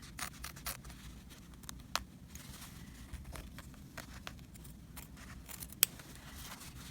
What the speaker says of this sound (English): And I'm just going to cut across there.